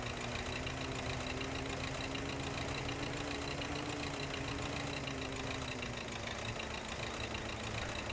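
Tractor engine in Farming Simulator 2015, plowing fields on the Sandy Bay map, runs at a steady low, rumbling drone with a faint tonal hum throughout, continuous and unvarying, with no voices.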